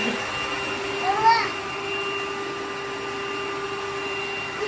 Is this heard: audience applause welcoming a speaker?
no